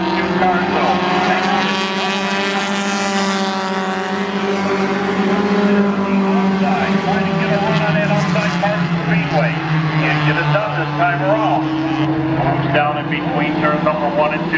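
Four-cylinder race cars rumble around the oval at Spencer Speedway during heat racing, their engines forming a continuous droning roar for the whole stretch while an announcer talks over them.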